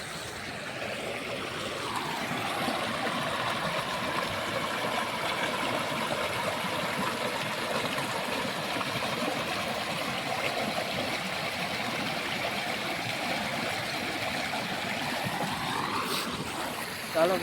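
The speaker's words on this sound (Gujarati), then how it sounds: "તો જો અહીંયા પાણી કેટલું જાય જુઓ" River water flowing past, a steady broad rushing wash at moderate level that holds throughout, with a faint engine-like hum swelling and fading, no talk.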